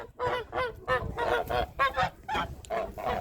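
A flock of geese honks repeatedly and loudly, overlapping calls in quick bursts close by in a farmyard, with no other sound standing out.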